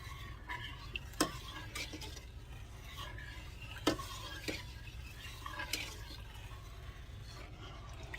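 Orange juice concentrate jelly mixture being stirred together by hand, with soft swishing and several sharp clinks of a utensil against the bowl or pan, close and quiet, no talking.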